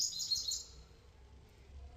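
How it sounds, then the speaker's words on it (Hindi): A tiny bird gives a bright, high chirping call at the start that fades out, heard alone and fairly close. "छोटी सी चिड़िया है, बहुत छोटी सी, बहुत छोटी सी, और आवाज़ देखो कितनी मोटी सी आवाज़, कितनी बड़ी सी।"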